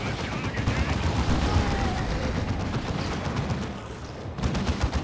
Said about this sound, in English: They're level 3 Dreadnought doing a lot of damage when it shoots.